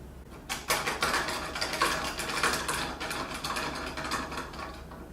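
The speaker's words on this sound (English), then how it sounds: "So that all we get is the sound of the keys and the hammers." Piano keys and hammers clatter with the tines muted, a dense run of close, dry mechanical clicks and taps at a moderate level, with no pitched tone.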